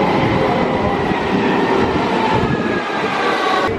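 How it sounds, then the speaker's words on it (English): London Underground Victoria Line train running at speed, a steady loud roar of wheels and motor with rail rumble filling the carriage throughout, no talk. "The Victoria Line train"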